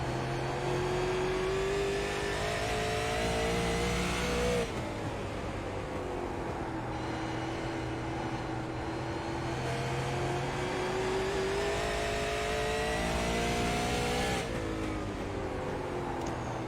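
A super late model race car's engine heard onboard at Nashville Fairgrounds Speedway, roaring loud and close without a break, its pitch climbing and falling as it revs through laps.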